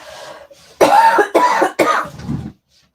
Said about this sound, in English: going to cough, I do apologise.